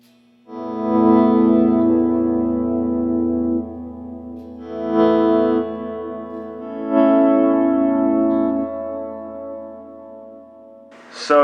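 Electric guitar swell run through a Rocktron Cyborg digital reverb pedal on channel 8: sustained harmonic notes fade in, then two more swells bloom over the held tone with a lingering wash, played alone with no talking.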